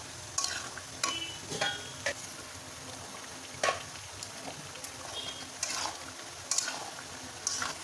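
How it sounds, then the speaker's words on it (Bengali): Chicken for chicken kosha frying in a pan with fried potatoes, a steady sizzle under repeated spoon-stirring scrapes and clinks at an uneven rhythm, close by. "এখন একটু আমি নাড়াচাড়া করে এর মধ্যে ভাজা আলুগুলো আমি এর মধ্যে দিয়ে দেবো"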